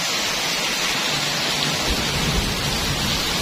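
Heavy rain pours down in front of a house in the Bagan Timur area, a dense, loud, continuous hiss with deep rumbling thunder rolling underneath and no voices.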